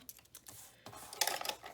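A bone folder or scoring tool dragged along fold lines on cardstock for a handmade masculine Valentine card, a few soft scratchy taps then a longer brighter scrape, close and quiet.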